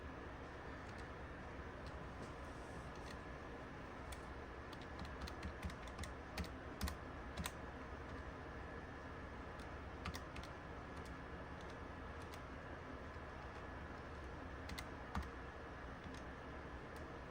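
Keys on a Casio fx-570EX scientific calculator are pressed in a quiet room, scattered soft clicks in irregular bursts over a faint steady background, no talking.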